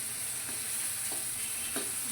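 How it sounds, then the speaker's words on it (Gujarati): Dry onions fry in a pan for a Gujarati tuver totha dish: a steady, even sizzle with three light stirring scrapes at regular intervals, close and uninterrupted by speech. "સૂકી ડુંગળી નાખી દઈશું. થોડી વાર ચડવા દેશું."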